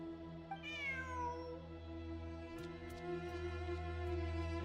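A cat in the Genshin Impact game gives a clear, rising-and-falling meow near the start, followed by a low steady background hum with a few faint clicks and no talking.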